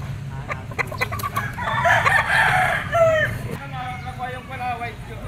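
A yellow-legged talisay rooster crows at a poultry pet market, a drawn-out call standing out over background clucking and crowd murmur, with someone talking nearby.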